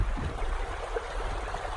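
Wadi Qelt stream water flows in a steady, close rushing wash with light gurgling throughout, alone without any voices.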